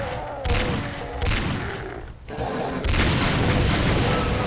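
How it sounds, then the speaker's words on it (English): Exploding barrels in the Doom 2 video game: loud, noisy blasts in quick succession, a brief lull, then another heavy burst of booming explosions close up. "barrels are incredibly powerful, so you want to stay away from them when they explode"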